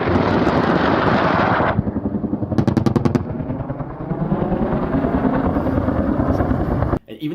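A Marine Corps helicopter roars loud and close with a steady, dense rotor and engine drone, joined by a brief rapid burst of sharp repeated shots partway through.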